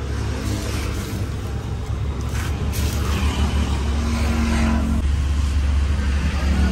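Close to a modified Toyota Fortuner VNT diesel, the engine runs at a low, throaty rumble, with a few throttle blips that rise and fall through the exhaust and no talk over it.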